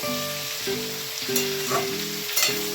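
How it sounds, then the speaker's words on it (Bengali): Vegetables for fried rice sizzle loudly in a pan while being stirred, with a constant frying hiss and a few sharp scrapes of the spatula, and a low rhythmic hum underneath. "আমি এটা একটু নাড়িয়ে নেব, নাড়িয়ে এর উপরে নুন দিয়ে দেবো যাতে একটু মজে যায়।"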